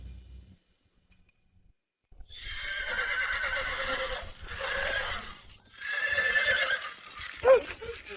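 Loud horse neighing in three long, shrill whinnies with brief gaps, close by, ending in a sharp snort; no one talks.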